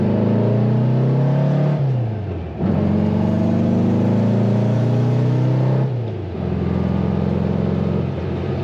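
A 1966 Volkswagen Beetle's small engine revs hard as it accelerates, dipping briefly twice as gears shift, then climbing again; loud, steady and close.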